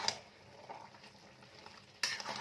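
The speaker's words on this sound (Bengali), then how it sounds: "একবার আমি ঢাকাটা সরিয়ে জাস্ট নাড়াচাড়া করে দিচ্ছি।" Shredded cabbage being stirred in an uncovered pan, a soft scraping and sizzle running steadily throughout, with a louder burst of stirring near the end.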